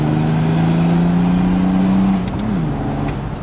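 Stage 2 tuned diesel car engine droning under hard throttle, then dipping in pitch as it shifts and fades slightly, no voices.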